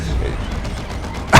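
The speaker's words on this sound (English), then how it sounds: "There we go with Plasma Cannon Devastators hitting the terrain and accidentally friendly firing themselves" A plasma cannon shot from Devastator squads in Dawn of War II strikes the terrain, a sudden loud impact burst at the end following a stretch of muffled battle noise under speech.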